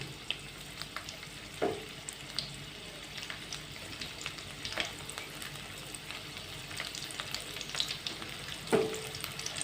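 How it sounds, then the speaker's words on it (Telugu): Crushed garlic cloves fry in a pan with a soft, steady sizzle, faint and close, broken by a few light clinks and stirring scrapes. "వేసి కాసేపు వేయించుకున్నాం."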